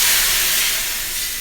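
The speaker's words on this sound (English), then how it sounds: "careful for the steam" Loud, steady steam hisses from a hot oven as two cups of water are poured in while baking sourdough bread. The hiss starts close and strong, then eases slightly.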